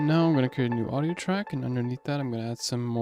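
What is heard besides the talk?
No everyday noises stand out.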